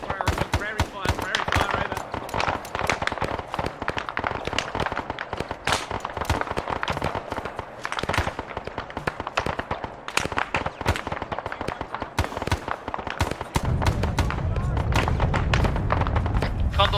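Heavy air strike ordnance pounds the ground in ARMA 3, dense rapid explosions and automatic fire overlapping continuously, with a deeper rumbling blast near the end and voices talking throughout.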